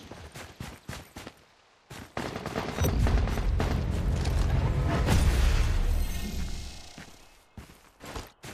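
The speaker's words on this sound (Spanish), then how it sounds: "Un disparo por los contenedores por allá, muy interesante." Gunfire in the shooter game Lost Light: a string of sharp shots, then a sustained loud burst of heavy firing and rumbling, trailing off into a few more scattered shots.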